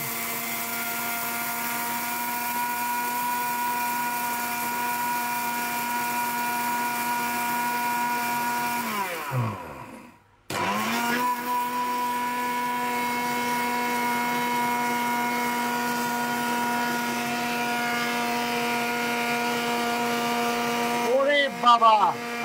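An Orpat blender grinds whole rice into flour with a loud, steady high-pitched motor whine. It stops briefly partway through, winds down and starts up again, then runs on. A voice can be heard faintly under it.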